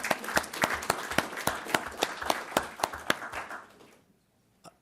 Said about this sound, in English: Let's have a nice round of applause for those two students.